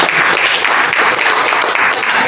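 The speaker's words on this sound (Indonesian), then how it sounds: "Tepuk tangan" Audience clapping at a student community-service workshop opening in a subdistrict hall, a dense, loud, continuous burst of applause from a gathered crowd, brief and unbroken.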